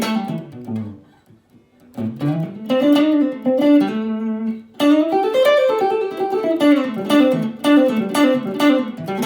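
Mellow, clean lead line on a solid-body electric guitar, aiming for a jazz tone: single sustained notes and short melodic phrases with a brief pause near the start, played alone and fairly close.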